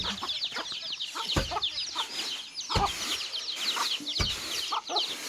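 Free-ranging chickens in a rural Thai countryside setting cluck repeatedly at close range, short irregular calls overlapping with outdoor ambience and a few sharp knocks, waiting near people for feeding.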